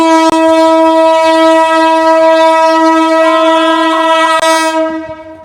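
A loud, sustained passenger train horn blares for several seconds as the train prepares to leave Cox's Bazar for Chittagong, then fades out, with a few clanks in between.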